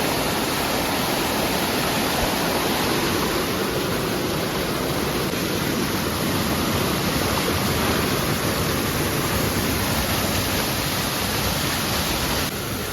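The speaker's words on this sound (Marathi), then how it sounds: "एक नंबर धबधबा" A steady, loud roar of falling water fills the whole stretch, broadband and unbroken, like standing close to a waterfall.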